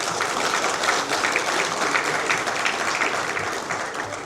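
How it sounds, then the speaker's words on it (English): A large company townhall audience applauds in a dense, steady wash of clapping that lasts throughout at full volume, with no speech over it. "Round of applause for Sushil sir."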